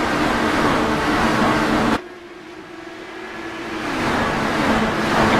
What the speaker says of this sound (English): He is on the loud pedal already before the green flag drops